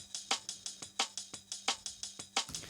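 A chopped drum break loops quickly, with crisp snare hits and a soft kick in a tight, repeating rhythm, fairly quiet.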